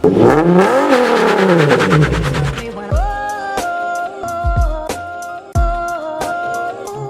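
A Nissan 370Z engine revs hard in a burnout attempt, rising and falling loudly near the car. It then settles into several shorter rev bursts with clattering drops between them.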